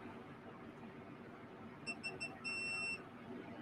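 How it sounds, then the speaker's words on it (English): A drone camera with no SD card inserted gives a burst of short electronic beeps, several quick pips followed by one longer tone, faint and thin over a quiet background hum. "so that's why it gave some extra beeps"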